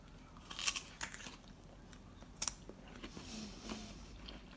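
Biting into a crunchy fresh persimmon, with a few sharp crisp bites followed by quiet, close chewing and faint crunches, soft and intimate with no talking.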